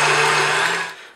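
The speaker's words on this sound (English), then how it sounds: "I'm going to put my mixer on to 8 out of 10 for about 5 minutes" Electric stand mixer on a high setting beating eggs for a Roman honey cake: a loud, steady motor whir with a constant hum, fading off in the final moment.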